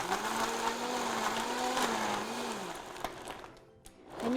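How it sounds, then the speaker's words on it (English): Vitamix blender running at speed on a kale and acai smoothie, a steady dense whir with a wavering motor tone that winds down and shifts near the end, close and continuous with no talk. "I'm going to turn on the Vitamixer to crush everything and make it into a nice"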